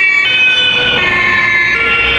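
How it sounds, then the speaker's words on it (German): A police siren wails loudly and continuously close by on a street, its steady rising and falling tones filling the scene with traffic rumble underneath. "Da muss selbst mal die Polizei die Sirene ausmachen."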